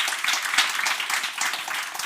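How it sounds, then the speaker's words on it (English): An audience applauds the expert panelists on stage at a conference on AI for climate change, biodiversity loss and pollution, with dense, steady clapping that stays fairly loud throughout. "Let's have a round of applause for Chantal Tippett from the University of O"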